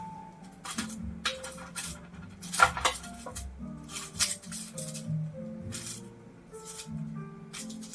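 Roasted vegetables turned over on a pan, heard as a run of light metallic clinks, scrapes and taps from a utensil, fairly faint and close.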